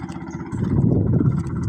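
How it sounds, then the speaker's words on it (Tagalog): A motorcycle pulling away at a seaside port, a low engine rumble that swells in the middle and then eases, moderately distant, with no speech. "Umalis po isang motor oh."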